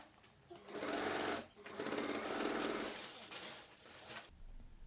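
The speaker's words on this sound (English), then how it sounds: "I will sew the part to the back in the seam allowance" A sewing machine stitches a backpack part into the seam allowance on the back panel, running loud and close in two long bursts with a brief pause between them and no talking.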